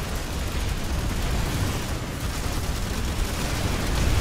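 A grenade detonates amid the dense, rumbling din of battle in the sci-fi shooter PlanetSide 2, with loud continuous booming and gunfire noise filling the scene.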